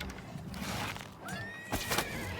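A horse in the video game The Elder Scrolls IV: Oblivion gives a loud whinnying neigh with a rising and falling pitch, set against busy game background noise and a few hoof clops.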